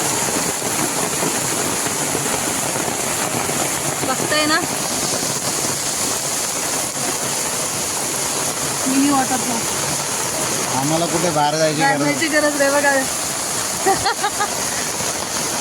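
Rainwater pours down from the hills in a steady waterfall-like rush after heavy rain in a residential colony, a continuous broadband roar with people talking over it.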